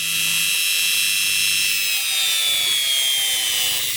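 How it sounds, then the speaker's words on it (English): A Dremel rotary tool grinds rust off a wheel from a G.M. Angem music box clock, a loud, close, high-pitched whine holding steady without pause and drifting slightly in pitch. "We'll remove those using the Dremel once again."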